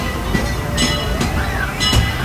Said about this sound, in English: Remain seated until the train has come to a full and complete stop.